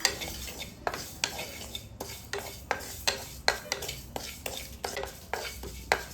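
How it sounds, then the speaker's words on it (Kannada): Two tablespoons of cumin seeds are stirred in a pan over low flame, a utensil scraping the pan in a regular rhythm of about two strokes a second, over a soft sizzle, close and fairly quiet. "ಇವಾಗ 2 ಟೇಬಲ್ ಸ್ಪೂನ್ ಜೀರಿಗೆ ಹಾಕೊತಾ ಇದ್ದೀನಿ. ಇದನ್ನು ಅಷ್ಟೇ ಲೋ ಫ್ಲೇಮಲ್ಲಿ ಫ್ರೈ ಮಾಡ್ಕೊಳ್ಳೋಣ."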